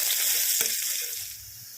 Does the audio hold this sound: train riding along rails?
no